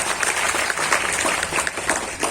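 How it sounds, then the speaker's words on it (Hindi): Dense, sustained applause from an audience at an entrepreneur talk, a steady wash of many hands clapping close by, with no talk over it. "तो एक बार जोरदार ताली"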